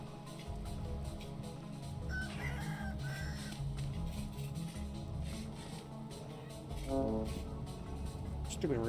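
A rooster crows in the video game Vintage Story, a couple of brief calls rising over busy game music and background ambience.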